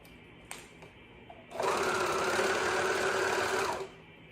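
A sewing machine stitches a seam on baby bummies, starting after a couple of faint clicks and running in one steady, close, whirring burst for about two seconds before stopping.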